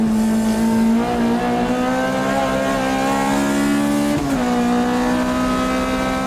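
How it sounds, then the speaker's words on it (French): Race car engine revving hard on the Tsukuba circuit, a loud close high-pitched whine holding steady, then dropping sharply as it shifts or lifts before climbing again, with no voices. "Écoutez ces régimes moteurs, c'est dingue."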